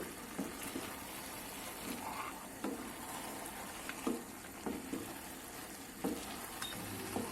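Homemade sauce goes into a hot frying pan, giving a steady sizzle and frying hiss with soft stirring scrapes and a few light clicks throughout.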